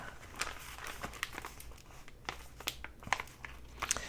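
Thin cardboard inserts cut from a Kleenex box being folded and creased, giving soft crinkles and small crisp snaps at irregular intervals, close and quiet.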